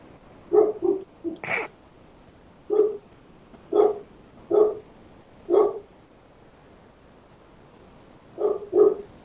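A dog barks alone in a series of short, distinct woofs, some in quick pairs, spaced irregularly with quiet gaps between them.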